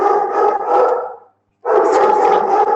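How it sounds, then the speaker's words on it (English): A dog indoors at home barks loudly in quick close bursts, stops for a short moment, then barks again just as hard. No one speaks over it. "sorry, that's my dog."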